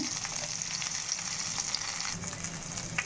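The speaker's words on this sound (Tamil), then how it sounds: "தேங்காய் சேர்த்து ஒரு ஒரு நிமிஷம் வதக்கிக்கலாம்" Grated coconut sautéing in a pan for a South Indian thuvaiyal, a continuous soft sizzle with small crackles and occasional stirring scrapes, close and fairly quiet, with no voices.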